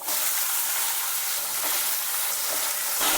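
Cut carrot pieces fry in hot oil in a pan with a loud, dense, continuous sizzle that swells slightly as the pieces are stirred, and no voices are heard.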